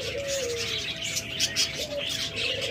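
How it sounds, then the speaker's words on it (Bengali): A master pair of lovebirds chirping, with short high tweets and brief warbling calls repeating over a soft background hum, fairly close and without talk. "master pair lovebird"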